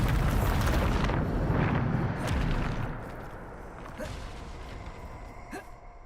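A Bombarda spell blast in Hogwarts Legacy: a loud, heavy rumbling explosion that roars for about two seconds, then decays into a fading crackle and hiss with a few faint clicks.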